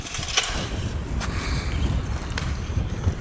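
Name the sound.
wind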